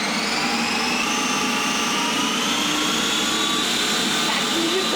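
An ice cream machine mixing a batch, giving a steady, loud whirring motor drone that runs unbroken for the whole stretch, with a voice faintly under it.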